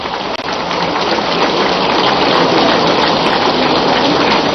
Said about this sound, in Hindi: हमारे जवान घनघोर वर्षा में भीग रहे हैं,